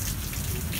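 Steady rain falls outside, a close, even hiss of drops pattering on surfaces that fills the whole moment with no voices over it.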